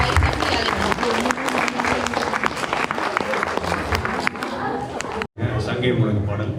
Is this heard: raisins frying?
no